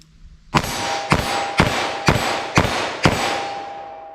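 Six sharp gunshots from a .327 Federal Magnum pistol ring out at a steady pace of roughly one every half second, each loud crack followed by a short ringing decay, with no voices over them.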